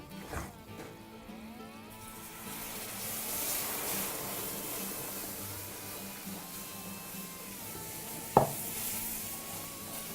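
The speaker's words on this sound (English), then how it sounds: "Keep stirring it, cook the flour." A flour roux for gravy stirred in a pan, with soft continuous scraping and faint sizzling at close range and one sharp clink near the end.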